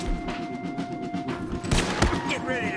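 Enemy gunfire in the Red Dead Redemption 2 video game, a fusillade of loud shots and thuds crackling close by over a busy background, with distant voices mixed in.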